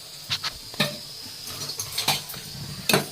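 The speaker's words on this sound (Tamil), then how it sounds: "திராட்சை முந்திரி வந்து நல்லா போட்டு அது கொஞ்சம் ஃப்ரை பண்ணணும்" Cashews and raisins fry in ghee in a pan, a light sizzle broken by sharp clinks and scrapes of a spoon stirring against the metal at irregular intervals, close by.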